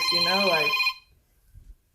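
A telephone ringtone trills loudly in a steady warbling pattern during a call, stopping abruptly after about a second, followed by quiet; a voice speaks over the ringing.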